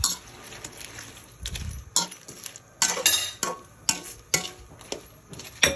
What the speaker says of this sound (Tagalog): Halo-haloin lang natin, tapos papakuluan natin yung Sprite hanggang sa umiga-iga yung Sprite.